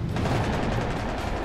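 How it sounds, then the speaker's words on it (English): Rapid, continuous aircraft gunfire roars loud and dense in a dogfight between a MiG and a Mirage, a sustained burst of automatic shots blending into one heavy rattle. "The MiG is pulling hard, trying to get his nose pointed in front of Ronan's Mirage to lead him with gunfire."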